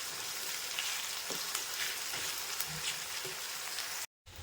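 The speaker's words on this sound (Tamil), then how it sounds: "வெங்காயம் வதங்கி வரட்டும்" Sliced onions sautéing in oil in a pan for a dried-fish curry with curry leaves, a steady close crackling sizzle throughout with occasional louder pops and spatters, cutting out abruptly near the end.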